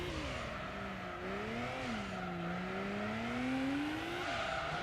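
In Gran Turismo 3, a race car slides under braking with partial throttle, its engine holding a steady, rising and falling drone while a continuous tire squeal runs beneath it for several seconds.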